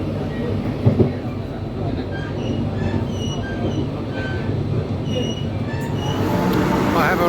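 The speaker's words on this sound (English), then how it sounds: "I've got to catch the train towards Sintra." A train heading toward Sintra rumbles along the rails, steady and loud, with metallic wheel squeal and a faint clickety-clack, growing slightly louder toward the end.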